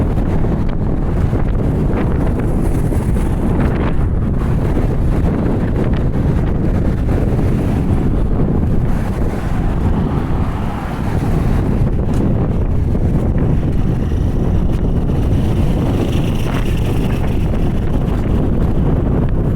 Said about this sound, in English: we got a strong wind blowing here